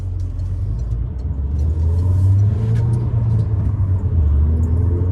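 A 2014 Peugeot RCZ sports car drives hard from inside the cabin, its engine a steady loud rumble that swells as it accelerates, with road noise underneath and no talking.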